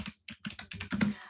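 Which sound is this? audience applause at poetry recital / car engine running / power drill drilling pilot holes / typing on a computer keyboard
typing on a computer keyboard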